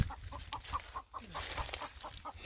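Chickens on a poly-farming agroforestry farm clucking, a steady series of soft rhythmic clucks at moderate distance, fairly faint amid outdoor background noise.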